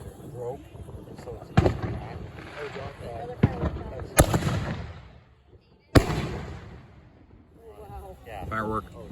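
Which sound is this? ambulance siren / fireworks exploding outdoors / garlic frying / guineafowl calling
fireworks exploding outdoors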